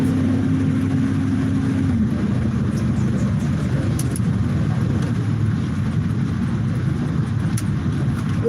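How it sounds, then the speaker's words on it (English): Steady road and engine noise from a car cruising past an old 2005 Honda on a Mexican highway, a constant rumble with a low engine tone that drops after the first two seconds, no talk. "Let's pass an old Honda."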